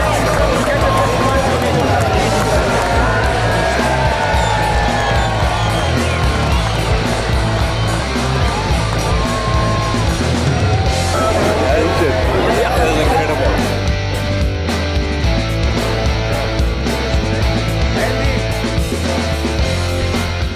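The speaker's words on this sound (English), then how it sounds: "The crowd roars and questions the scale reading" Loud crowd hubbub and roaring voices at a tiger fish tournament weigh-in on Lake Kariba, Zimbabwe, a steady dense babble of cheering and chatter throughout, with people talking over it.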